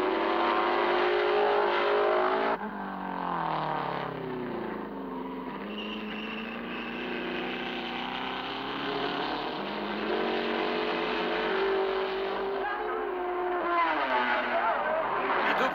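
Race cars at the 1956 Le Mans 24 Hours, with an Aston Martin leading, their engines droning and shifting pitch in a steady, continuous roar. The recording is old and band-limited.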